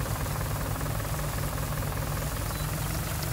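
Tractor engine idling in Farming Simulator 2019, a steady low mechanical drone with a faint knocking pulse running unbroken throughout.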